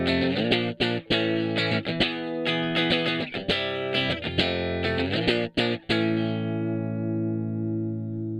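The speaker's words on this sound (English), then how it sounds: "under gain or distortion, these stripped down voicings sound particularly punchy and tight" Electric guitar through distortion plays stripped-down chord voicings in tight, punchy stabs with brief muted gaps, then lets the last chord ring out and fade alone, close and loud.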